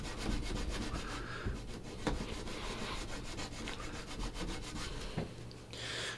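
An old pedalboard is scrubbed with lighter fuel to lift sticky residue, giving close, continuous rhythmic rubbing and scraping strokes at a steady level with no talk.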